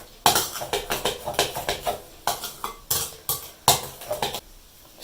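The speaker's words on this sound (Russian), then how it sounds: "Теперь сюда добавляем чайную ложечку разрыхлителя. Хорошо все перемешать." A whisk or spoon stirs curd dough for sochniki with a spoonful of baking powder in a bowl, giving a fast, irregular run of close clinking and scraping strokes against the bowl, loud and alone.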